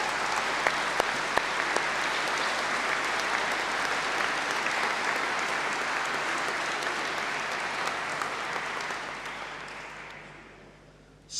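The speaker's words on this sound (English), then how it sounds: "give another round of applause, please, to thank everyone here at the university who has supported that journey" Sustained audience applause fills a university winter graduation congregation, a dense steady wash of clapping from a large crowd that holds for about ten seconds and then fades out near the end.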